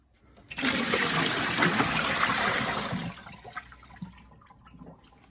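Water from a refrigerator filter being dumped into a sink, a sudden loud rushing pour that lasts a few seconds, then tapers to trickles and light splashes.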